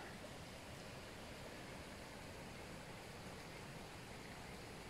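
The Crocodile River in flood after Cyclone Eloïse, at Drie Berge Caravan Park, rushes through trees as a steady broadband roar of fast-flowing water, faint but unbroken.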